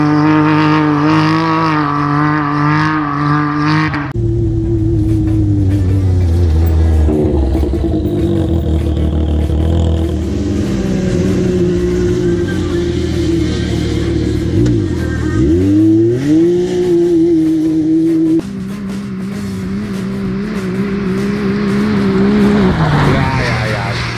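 A Can-Am Maverick X3 XRC Turbo RR side-by-side revs its turbo engine hard off-road, the loud, close note rising and falling in surges with clattering, while people talk nearby.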